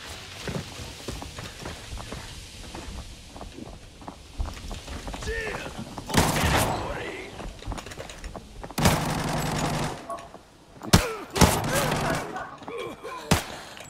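Gunfire in the video game Arena Breakout comes as scattered shots and rapid automatic bursts, some loud and close, others distant and faint, with a voice talking over parts of the exchange.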